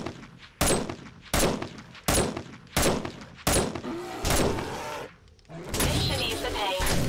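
Sniper rifle shots in 7 Days to Die boom five times at a steady pace about every second, loud and close, each with a short tail, followed by a longer rumbling blast with a voice talking over it.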